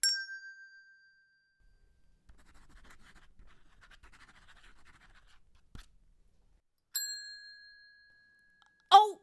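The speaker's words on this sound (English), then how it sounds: "Oh, we've heard the bell" A bright quiz-buzzer bell ding rings out, then quiet scratchy rustling, then two more sharp bell strikes, the last one clattering, as a team rings in during a quiz.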